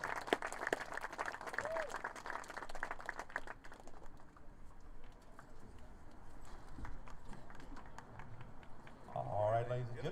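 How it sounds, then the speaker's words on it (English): Crowd applause at a high school varsity baseball game, a brief burst of scattered clapping at the start that quickly thins out, followed by quieter ambient crowd noise with some voices. "How about a big round of applause on behalf of all players and coaches, past and present, on this incredible accomplishment."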